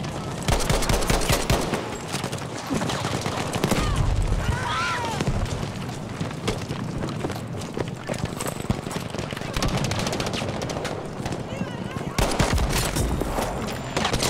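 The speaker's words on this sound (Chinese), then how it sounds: "坦克在炸" Dense, continuous gunfire and machine-gun bursts with booming blasts fill a Battlefield V battle, tank explosions going off among rapid shots, while a voice talks intermittently over the loud, unbroken combat din.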